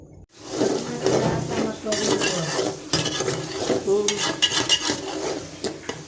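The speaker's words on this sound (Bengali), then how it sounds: "মশলাটা ভালো করে কষাই নিই, কষা নিয়ে তাহলে মাছটা দিয়ে দিব।" Spice paste fries in a pan for a Bengali rohu fish curry, with a spoon scraping and clinking against metal over a steady sizzle, close and busy throughout.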